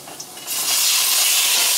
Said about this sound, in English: As you see, it's going to sizzle up a little bit.